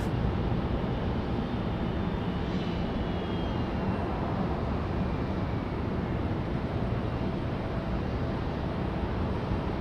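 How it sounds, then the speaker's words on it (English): A Boeing 737 Max 9 arriving at Raleigh-Durham airport gives a steady, broad jet roar that stays constant throughout, heard from a distance and with no voices. "I believe we got our Max 9 coming in just now"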